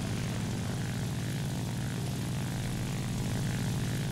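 A Ki-44-II Otsu propeller fighter climbs in War Thunder, its engine droning in a steady, dense roar with a constant throbbing low end and no pauses, heard alone without talk.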